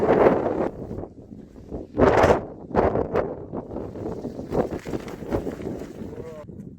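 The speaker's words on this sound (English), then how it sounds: "Oh, it's windy, mate." Strong wind buffets the microphone in loud gusts while a person talks over the blustery rumble outdoors on a mountain.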